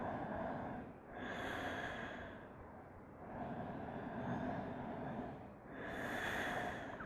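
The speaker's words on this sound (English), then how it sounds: "Just about 3 solid grounding breaths here." Three slow, deep breaths taken during a yoga class, each long airy inhale and exhale swelling and fading with brief quiet gaps between, close and soft with no talking.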